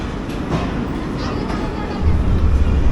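The Mumbai CSMT–Trivandrum Weekly Express rattles and rumbles along the track, heard from inside the coach, with a steady rolling noise that swells into a louder, jolting lurch near the end.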